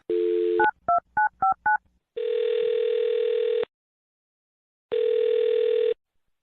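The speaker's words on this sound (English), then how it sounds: "I'm going to dial this phone right now." Telephone keypad tones beep in a quick series of short presses, followed by two long, steady ringback tones separated by silence.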